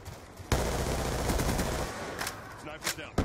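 Automatic gunfire from hip-firing in the video game Black Ops 2, a loud sustained burst of shots starting abruptly and running nearly the whole time, followed by a few sharper isolated bangs near the end.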